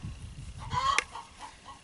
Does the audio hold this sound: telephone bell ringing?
no